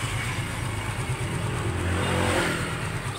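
A Suzuki Smash 150 motorcycle with a fault that makes it stall while riding and keeps it from idling properly, started and running with a steady, fairly loud engine drone close by, no voices.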